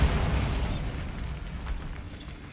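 Bombarda spell blast in Hogwarts Legacy: a loud low boom at the start with a bright crackling burst, then a rumbling tail that slowly fades, no talk.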